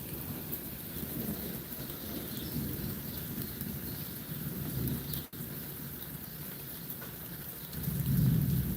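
Heavy rain falls without pause, a thick, steady hiss of drops with a low rumbling undertone that swells louder toward the end, with no voices.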